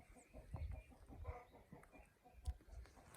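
Chickens clucking faintly with scattered short calls and soft thumps of movement, quiet and uneven, with no talking.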